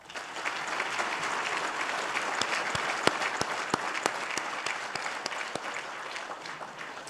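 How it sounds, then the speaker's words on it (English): An audience at a Pro Football Hall of Fame award ceremony applauds steadily, a dense wash of clapping at moderate loudness with a few sharper claps standing out, sustained for several seconds without speech. "But let's give a round of applause to Bob Noel."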